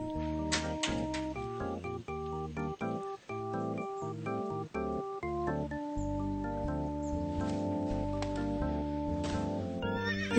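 Horses grazing on grass neigh and whinny repeatedly over a steady, fairly loud background of layered animal calls that continues throughout, with no talk.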